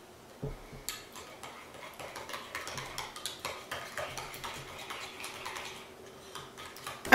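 Mayonnaise, mustard and ketchup being mixed into a sauce in a bowl, a rapid series of light, close clicks and scrapes from a utensil against the dish in a steady rhythm, no talking.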